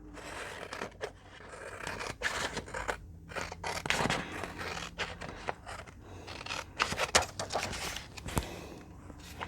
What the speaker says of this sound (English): Cutting them out.